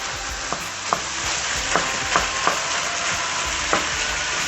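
Medium ground beef browns on high heat in a pan with vegetables for a minced beef stew, giving a loud, steady sizzle close by with scattered clicks and scrapes of stirring and no voices.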